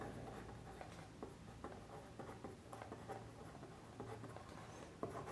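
A pen writes on paper while working a compound interest worksheet, faint close scratching strokes in short irregular bursts, quiet throughout with no talking.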